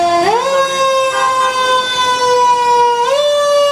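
A fire engine siren wails loudly and close, its tone sweeping up then holding before rising again, alone without talk.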